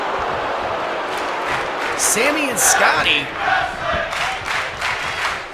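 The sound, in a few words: wrestling arena crowd chanting for tag team wrestling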